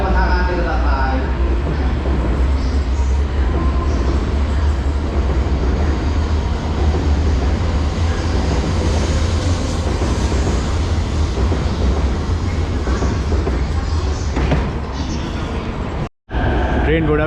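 A Hokuriku Shinkansen high-speed train sits at a station platform, giving off a loud, steady rumble and hum that fills the whole stretch, with muffled platform sounds and a brief cut near the end.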